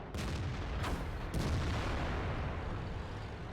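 Tank cannon shots from a Japanese tier IX Type-61 medium in World of Tanks, two sharp reports roughly a half-second apart, each followed by a long rumbling boom that fades slowly, loud and close with no talking.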